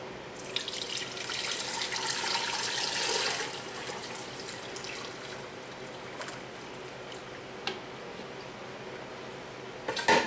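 Hot chicken soup broth poured from a pot back into a pan, a splashy stream of liquid for a few seconds that fades into quieter trickles and drips with a couple of light clinks.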